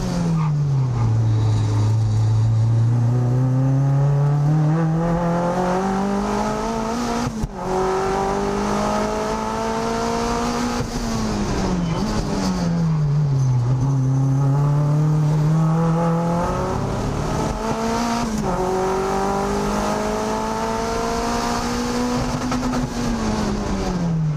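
A turbocharged Mazda MX-5 race car at full pace on a time attack track, its loud onboard engine note rising and falling through gearshifts and corners for the whole stretch, with no talk.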